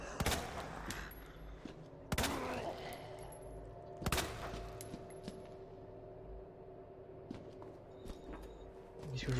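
Gunshots in Resident Evil 2 during the sewer section of Leon's campaign: three sharp, loud shots roughly two seconds apart over a steady hum of game ambience, with a faint voice talking in the background.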